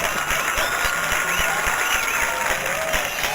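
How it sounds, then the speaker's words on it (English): Studio audience on a talk show applauding, dense continuous clapping with sharp individual claps standing out, loud and sustained for several seconds. "You know everybody gets applause on this show."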